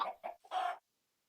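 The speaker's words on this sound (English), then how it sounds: "a chicken actually laid an egg there" A Minecraft chicken on an automatic redstone chicken farm clucks three times in quick succession, short bursts with the last one longest, close and clear, then silence.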